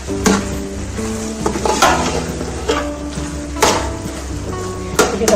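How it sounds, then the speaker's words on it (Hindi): Masala bhindi with tomatoes and oil cooks on a slow flame in a pan, giving a steady soft sizzle broken by occasional clinks of a spoon against the pan, with a faint low hum underneath. "ये हमने बिल्कुल स्लो फ्लेम पे इसको पकने के लिए छोड़ना है"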